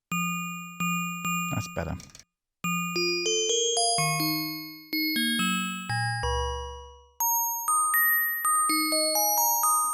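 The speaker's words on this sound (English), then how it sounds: "I'm just going to go to the amp envelope now to give us a sort of bell." A Korg microKORG synthesizer playing bell-like tones shaped by its amp envelope: a run of single notes with sharp attacks and ringing decays that climb from low to high pitch, close and clean, with a brief spoken remark early on.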